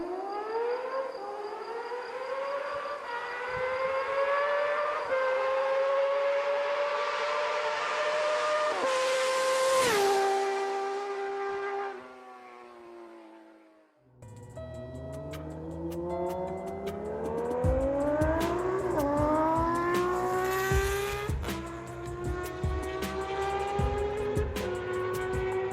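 A stock Japanese six-cylinder muscle-bike engine revs loud and close, its pitch climbing smoothly through two long sweeps with a brief lull between them, producing a rich layered howl.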